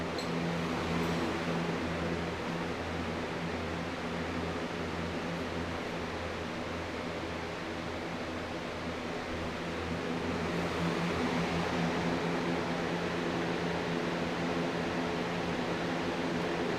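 Electric fans running to pull vape smoke into side filters, a steady close whirring hum with broadband airy noise throughout and no speech.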